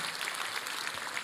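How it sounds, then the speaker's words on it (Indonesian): A church congregation claps through a brief burst of applause during a New Year sermon, a faint, dense and even patter with no break. "Berikan tepuk tangan kita untuk Tuhan kita."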